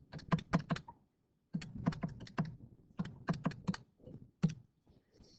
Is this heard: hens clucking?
no